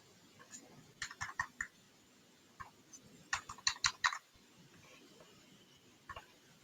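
Typing on a computer keyboard to fill in a name, in two quick bursts of key clicks separated by pauses, close and fairly quiet, with no talk.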